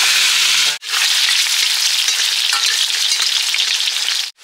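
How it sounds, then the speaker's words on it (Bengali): Potatoes frying in hot oil at an outdoor village picnic cook-up give a loud, dense sizzle that runs almost continuously, broken by two very brief pauses, with no talking. "তো আলুগুলো কিন্তু আমরা প্রথমে ভেজে নেবো।"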